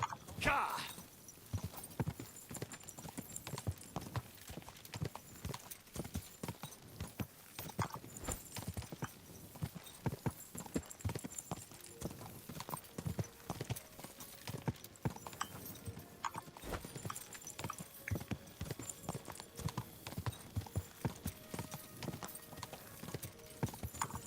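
Rapid horse hoof clip-clops in a video game patter continuously at a gallop, faint and steady, with occasional voices in the background.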